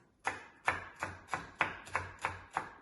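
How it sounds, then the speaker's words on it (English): A knife cuts celery into skinny slices on the bias, eight crisp chops falling in a steady, even rhythm on a board, close and clear with no voices. "for the celery, all we do is we cut little skinny slices"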